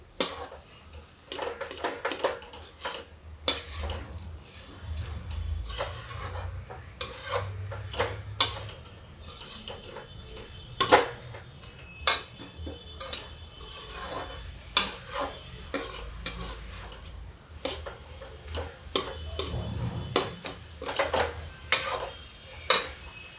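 A spoon scrapes and clinks around a pan as malai (cream) is stirred in for a ghee barfi. The close, irregular metallic strokes and rubbing continue steadily with sharp taps, and nobody speaks.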